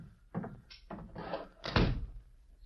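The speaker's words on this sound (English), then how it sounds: "Please step outside and close the door." A door in an old radio drama is shut with a few heavy wooden thunks and bumps, the last one loudest, close by and alone without talk.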